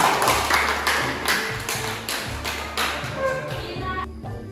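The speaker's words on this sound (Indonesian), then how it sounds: "tepuk tangan untuk kelompok Hila" A classroom group applauds together, with a string of sharp hand claps and taps that thin out toward the end, while faint voices murmur underneath.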